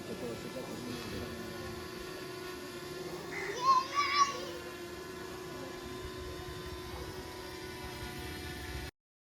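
A drone flies over a village Ram Navami festival fair, giving a steady mechanical hum with a brief louder swell midway. Faint crowd voices sit beneath it.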